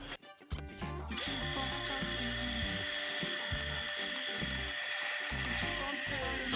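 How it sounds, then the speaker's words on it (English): A two-stage dust collector sucks up a whole bucket of dust, starting with a few rough bursts before settling into a loud, steady whine and roar that runs on with rattling debris inside it. "We're gonna suck up this whole bucket and see where we end up."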